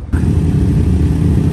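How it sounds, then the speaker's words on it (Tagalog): Motorcycles arrive along a road in Mamplasan, a loud, close engine rumble that keeps an even, throaty drone through the short clip, with no talk. "Mga motor naman nagdatingan ngayon, no?"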